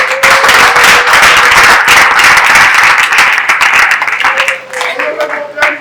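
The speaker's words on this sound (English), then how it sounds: "Please, let's clap for him." Crowd clapping and applause at a coalition political gathering, loud and dense with individual claps distinct, fading slightly toward the end, with a voice faintly under it.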